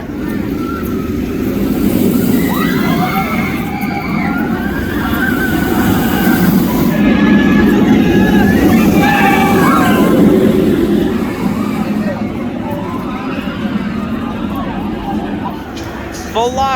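Velocicoaster roller coaster at Universal Orlando rushing along its track, a loud, sustained rumbling roar that swells and fades over several seconds, with crowd voices and talk underneath.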